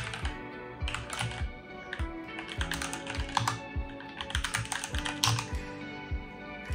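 Typing on a gaming keyboard fitted with Gateron G Pro mechanical switches, a steady run of close, crisp keystrokes with irregular rhythm and no talking.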